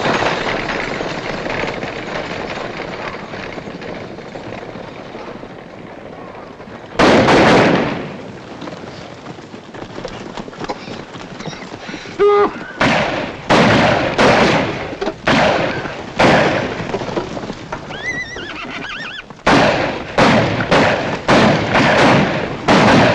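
A western film gunfight, with loud gunshot bursts after a quiet rumbling stretch, then a rapid run of sharp, heavy shots in close succession.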